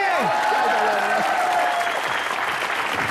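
Enthusiastic studio audience applause at a comedy show, dense clapping and crowd noise filling the whole stretch, with a brief sliding tone over the start.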